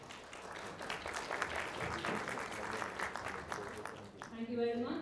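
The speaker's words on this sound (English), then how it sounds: "A big round of applause for the voice of students." Sustained applause from an audience at a school principals' conclave greets a student speaker, a steady dense clapping that carries on for several seconds before tapering, with a voice speaking over the end.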